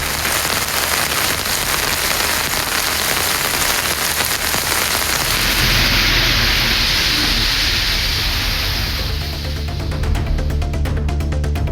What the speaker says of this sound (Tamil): நாகை மாவட்டத்தின் பல்வேறு பகுதிகளில் கனமழை பெய்தது.